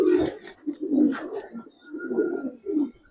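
Several Giribaz pigeons of silver and old breed coo in repeated low rolling bursts, fairly close, with a faint high tone running underneath.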